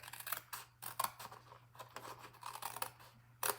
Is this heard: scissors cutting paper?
yes